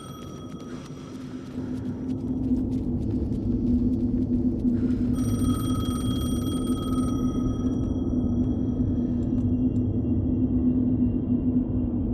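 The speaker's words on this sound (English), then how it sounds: "The phone again." An old-style telephone rings in the video game Alan Wake 2, with steady electronic trills over a heavy, constant low ambient drone.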